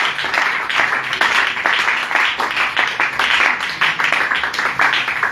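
A church congregation gives sustained applause, with dense, steady clapping from many hands throughout, fairly loud and close, with no speech over it.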